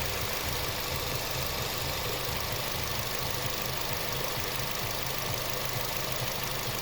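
A vehicle engine idles steadily during an ignition coil test, a constant low rumble with a broad even hiss, no revving and no voices.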